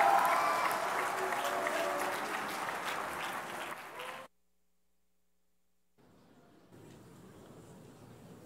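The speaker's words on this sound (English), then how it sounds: "So let's give a nice round of applause." Audience applause at a conference mainstage session fills the first four seconds as a dense, loud wash of clapping that fades and cuts to silence, followed by faint room noise.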